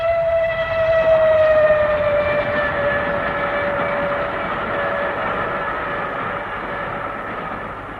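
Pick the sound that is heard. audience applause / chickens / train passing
train passing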